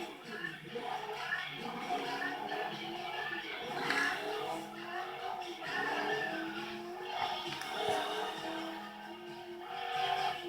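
A Hennessy Venom drifts under braking in the Forza Horizon racing game, giving a steady, dense roar of engine and tire noise with shifting pitch for about ten seconds.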